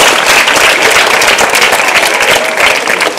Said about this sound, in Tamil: நல்லா கைத்தட்டுங்கப்பா.